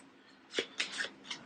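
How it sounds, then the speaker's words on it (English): A deck of Arkham Horror board game cards being shuffled up close, a few quiet riffling bursts in quick succession. "Alright, shuffle them up."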